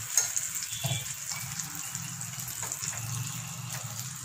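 Kuzhi paniyaram cook in a paniyaram pan over a medium flame, producing a soft, continuous hiss of frying with no one talking.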